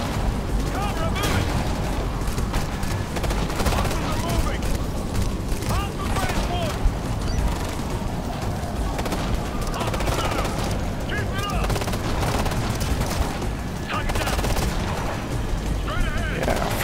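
Sustained assault rifle fire and bursts of gunfire in the Ghost Recon Future Soldier video game, loud and dense throughout with overlapping shots and battle noise, under occasional voices.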